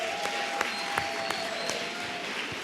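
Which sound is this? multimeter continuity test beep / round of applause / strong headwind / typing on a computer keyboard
round of applause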